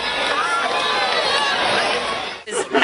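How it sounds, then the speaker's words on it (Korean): Crowd cheering and excited chatter during a total solar eclipse in Oregon, a loud, steady roar of many voices that drops out briefly near the end before scattered shouts return. "경탄의 환호성이 터져나왔습니다"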